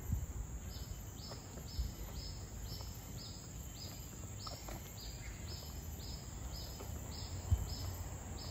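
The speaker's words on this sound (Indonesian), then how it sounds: "Suara burung banyak." Many birds calling together in the Evolution Garden of Singapore Botanic Gardens, a steady series of repeated high chirps over a constant insect-like buzz, moderately faint with no talking.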